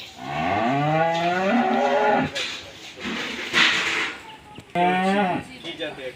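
Holstein Friesian dairy cows on a Bangladeshi farm moo loudly and close, several long drawn-out calls separated by short pauses, with some thumps and rattles between.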